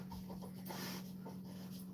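A dog pants in quick, rhythmic breaths close by, quiet over a steady low electrical hum, with no talking.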